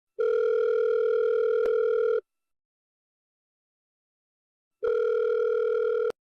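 A telephone ringback tone plays while a call is being placed, two long steady electronic tones separated by a pause of silence, clear and alone.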